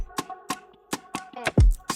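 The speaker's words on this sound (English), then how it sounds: "So after that, he added this vocal loop again from Cymatics." A Cymatics sample-pack vocal loop hums in sustained tones over a trap beat's evenly spaced percussive hits, ending on a heavy, sliding 808 kick.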